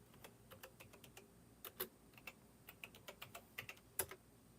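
Keys clack on a computer keyboard in quick irregular bursts, close and fairly quiet, with no voices.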